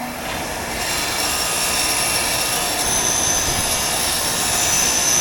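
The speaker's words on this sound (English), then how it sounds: "just gonna get these cleaned up on the grinder wheel here" Bench grinder wheel cleaning rusty differential bolts, a steady loud whirring grind that holds without a break from start to finish, with no talk over it.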